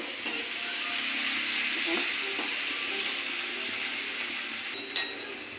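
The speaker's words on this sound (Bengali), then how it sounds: "পেঁয়াজটা অল্প ভাজা ভাজা করব।" Chopped onion fries in hot oil with garlic, giving a steady, broad, close hiss of sizzling that barely changes throughout, with a faint clink near the end.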